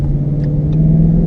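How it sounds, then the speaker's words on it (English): Engine note of a 2015 Ford Mustang GT with its 400 lb-ft V8, heard as a steady, loud low rumble with a droning hum while the car drives, close up and without any talk. "The sound, oh, that V8 howl."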